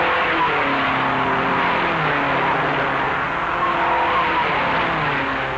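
Race cars roar around the track at the 1956 Indianapolis 500, a dense, continuous engine drone with overlapping pitches as several cars pass in a tight pack, loud and steady throughout.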